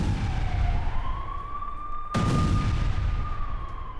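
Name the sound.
FAB-500 bomb explosion at a Ukrainian base in Kherson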